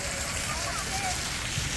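Steady rain falls outdoors at a park, a continuous broadband hiss of drops on surfaces with a soft wash of water underneath, close and even throughout.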